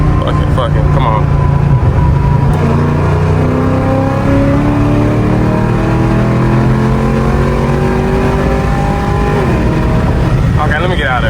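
A car accelerates hard in a rolling pull from 60 at highway speed, its engine note climbing steadily and loudly from inside the cabin for the whole stretch.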